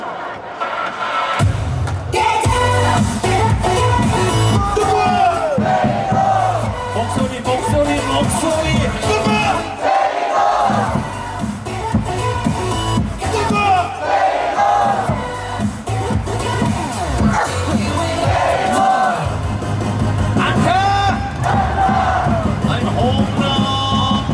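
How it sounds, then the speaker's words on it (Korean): A stadium crowd at a Korean baseball game with cheerleaders shouts a player's name in unison over loud amplified cheer music. The dense chanting and roar go on without a break. "양손머리 위로 흔들다가 이름을 네 번 외치시는 거예요"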